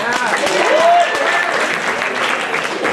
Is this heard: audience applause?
yes